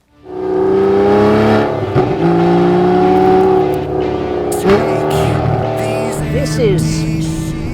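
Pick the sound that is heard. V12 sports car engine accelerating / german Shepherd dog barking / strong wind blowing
V12 sports car engine accelerating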